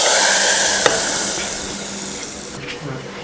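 Hot tempering of cumin, dried red chillies and curry leaves poured into cooked dal, giving a loud, hissing sizzle that starts at full strength and slowly fades over a few seconds, with a faint clink near the end.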